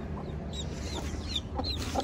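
A hen that has just hatched her eggs clucks softly in a coop, a few short chirpy calls repeating at close range over low background hum.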